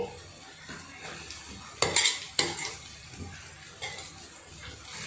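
Rice tipped into a pan of half-cooked vegetables for veg pulav and stirred, with a soft sizzle underneath, a couple of sharp metallic clanks from the spoon against the pan and lighter scraping afterward.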